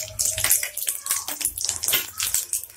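Nigella seeds dropped into hot oil in a kadhai while making a sweet and spicy mango chutney, giving a close, bright crackling sizzle with irregular pops throughout.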